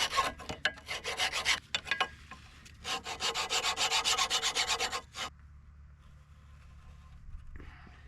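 A truck's brake caliper sliding surfaces are scrubbed clean with a brush or file, making quick rhythmic rasping strokes in bursts close up, then stopping, leaving a quiet room with no talk.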